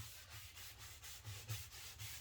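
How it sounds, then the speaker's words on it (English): A rag rubs wood stain across a coffee table with the grain, giving a soft, steady swishing scrub in repeated strokes, quiet and close with no talking. "I do try to rub it with the grain going across."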